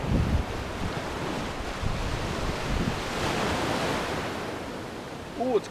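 Waves wash steadily onto a Gulf of Mexico beach in a soft, continuous surf hiss with light wind rumble, and a voice briefly sounds at the start and end.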